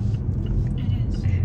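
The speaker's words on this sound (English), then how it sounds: "We're in the car going to school" Steady low road rumble inside a car driving to school, a close, continuous drone with faint hiss above and soft voices murmuring over it.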